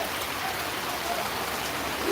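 Heavy rain pours at the Gabtoli market, a dense, even roar of falling water that stays constant and loud through the whole short stretch.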